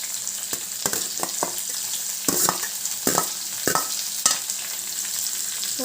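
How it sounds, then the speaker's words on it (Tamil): Chopped big onion sizzling and frying in a pan for dried fish thokku, a steady hiss broken by several sharp stirring scrapes and clatters, close and moderately loud with no talking. "ஒரு பெரிய வெங்காயம் கட் பண்ணியிருக்கேன், அதை போட்டுக்கலாம்."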